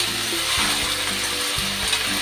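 Mustard greens (sarso saag) with green chillies and tempering frying in a pan, a dense, continuous sizzle with occasional stirring knocks and scrapes close up.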